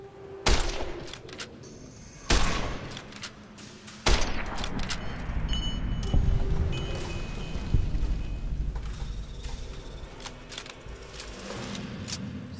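Gunshots in the video game Fallout New Vegas: a few sharp, loud reports spaced a couple of seconds apart, each trailing off into a rumbling echo, followed by lingering background noise.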